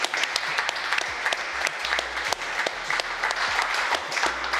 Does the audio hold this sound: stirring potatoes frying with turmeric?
no